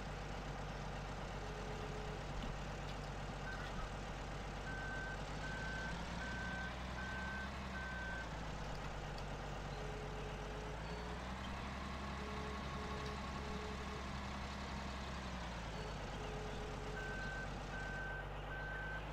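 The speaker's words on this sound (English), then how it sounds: "Beep, beep, beep, I'm backing up." Steady reversing beeps from a heavy truck in Farming Simulator 2013, a regular pulsing alarm over a loud, constant low diesel engine drone that swells slightly in places.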